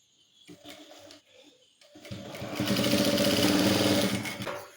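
A sewing machine stitches a seam on a girl's uniform pant. After a few soft handling noises, it starts up close and runs in a continuous rapid whir for the last few seconds.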